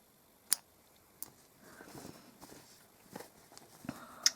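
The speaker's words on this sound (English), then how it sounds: "and then cut that thread" Scissors snip embroidery thread on an owl sewing project, a few short quiet clicks and snips spaced apart, close up in a calm room.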